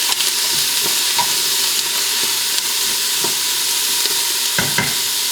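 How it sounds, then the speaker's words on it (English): Vegetables sautéing in hot butter in a pan, tossed and stirred; a loud, dense, steady sizzle close by with a few soft knocks of the utensil, and no voices. "now I'm just gonna add in all of this vegetable into my butter. Give it a nice little toss."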